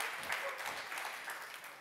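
Faint audience applause at a talk on connected kitchens, a dense patter of many hands clapping at a distance, holding steady and tapering slightly at the end.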